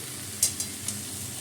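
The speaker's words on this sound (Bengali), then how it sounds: "সর্ষের তেল দিয়ে পাঁচফোড়ন দিয়ে আমটা ছেড়ে দিয়েছি।" Mango pieces frying in mustard oil with five-spice for pickle, a brief soft sizzle with three light stirring clicks.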